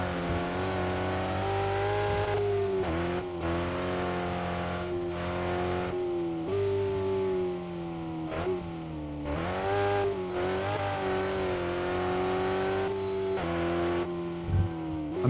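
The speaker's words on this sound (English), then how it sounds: "I use the engine brake. Just kind of throttle my way through the corners." A race car engine drones loudly and close, its pitch rising and falling repeatedly as the throttle is worked and eased through corners, with brief dips between revving stretches and no talk.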